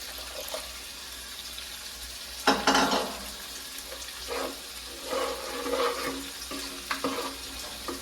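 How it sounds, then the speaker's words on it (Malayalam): Water poured into a pan of chicken curry masala, a sudden rushing splash followed by gurgling, bubbling and stirring, close up with no voices. "കുറച്ചും കൂടി നമുക്ക് വെള്ളം കൊടുക്കാം"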